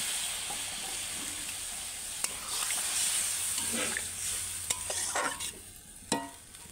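A spiny gourd curry sizzles and hisses in a pan as water is added and the mix is stirred, with scraping utensil sounds and sharper clatters toward the end, fairly quiet overall.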